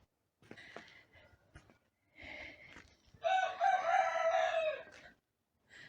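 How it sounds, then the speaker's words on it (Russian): A rooster crows nearby, a loud drawn-out call preceded by a few shorter clucks and calls, with quiet pauses between. "Поет наш петух"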